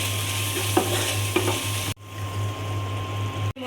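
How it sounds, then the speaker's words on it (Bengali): A paste of ground cumin, ginger, turmeric and salt sizzles steadily in oil, with two short utensil scrapes early on. The frying stops abruptly near the midpoint, then a quieter background hiss continues before another sharp cut at the end. "মশলা কষানো হয়ে গেছে"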